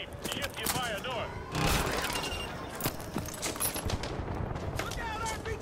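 Automatic gunfire and explosions from the Modern Warfare 2 Remastered video game, with dense bursts of shots and a loud blast around the middle, under shouted radio-style voices calling out contacts.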